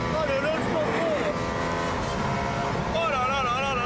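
A powerful Mercedes sports car engine roars under hard launch-control acceleration, its pitch sweeping upward through gear changes, with excited voices talking over it.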